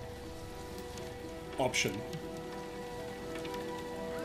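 Steady rain falls on surfaces in a scene from Harry Potter and the Goblet of Fire, giving a constant soft hiss throughout, briefly interrupted by a short spoken word.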